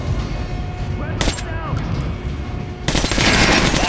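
Gunfire in the first-person shooter Metro Last Light during target practice on armored targets, with a few sharp shots early on, then a dense burst of automatic fire near the end, heard alongside ambient game sounds.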